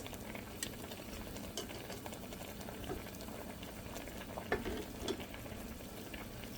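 A hilsa fish head goes into a simmering pumpkin curry, and the pot gives off a steady low bubbling and burbling, with a few soft splashes and knocks.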